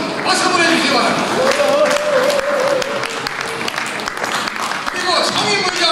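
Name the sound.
audience applause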